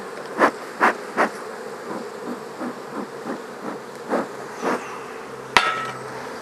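Honey bees buzzing around an open beehive during inspection, a soft hum under a series of sharp rhythmic knocks as hive parts are tapped and reassembled, ending with a louder clunk; no talking.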